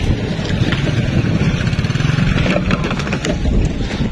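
A motorcycle engine churns steadily through deep mud in a typhoon-battered village after Typhoon Odette, wheels sinking and the bike tipping, its loud continuous drone rough and unbroken, with no talk.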